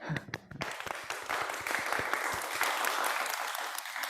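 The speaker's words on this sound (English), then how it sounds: "a big round of applause to all the people here and all in the previous sections" Audience applause at a leadership symposium in Hong Kong, a dense steady wash of many hands clapping that swells after a brief start and carries on loudly throughout.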